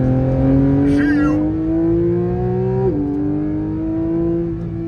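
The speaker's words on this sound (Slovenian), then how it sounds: "Meni so toliko všeč avti, ki se vrti. Tale zadeva se zavrti na 9000 obratov." Porsche GT3 Touring engine revving hard toward its high redline, a loud sustained rising engine tone that dips briefly at a gear change, then climbs again, with a voice briefly audible over it.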